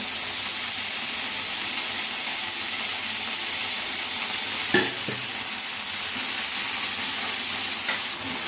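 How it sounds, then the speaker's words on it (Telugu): Fresh washed coriander leaves, stems removed, frying on low heat in a pan for chutney, with a steady hiss of sizzling throughout and a couple of brief scrapes of stirring, close and fairly loud, no talking. "ఇప్పుడు కొత్తిమీర వేయించుకోవాలి"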